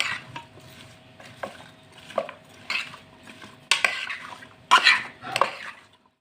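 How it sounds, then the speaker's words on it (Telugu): Spices such as coriander powder and chaat masala being mixed with a spoon in a bowl, producing irregular close clinks and scrapes of metal on the bowl, with a few louder knocks and pauses between strokes. "ఇప్పుడు ఈ మొత్తాన్ని మంచిగా కలిపేసుకోవాలి"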